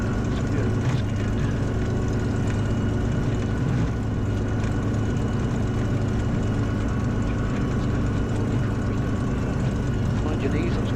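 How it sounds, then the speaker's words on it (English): A light aircraft's propeller engine runs at full takeoff power, a loud, steady droning roar that holds unbroken from start to finish. "the engine's going to give us full power takeoff"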